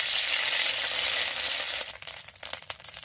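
Chopped garlic and crushed ginger fry in white oil in a wok, a loud steady sizzle that then thins into a crackling spatter with a few stirring scrapes.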